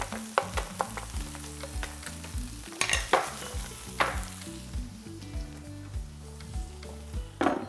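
Breakfast burrito filling frying in oil in a pan, a steady crackling sizzle close up, broken by repeated scraping and stirring strokes of a utensil, with no voices.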